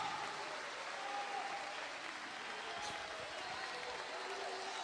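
A church congregation applauds during a sermon, a continuous wash of clapping heard at a moderate distance, with faint voices and scattered shouts mixed into the crowd noise.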